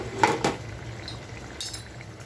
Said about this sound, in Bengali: ঝোলের ঢাকনাটা সরিয়ে নিচ্ছি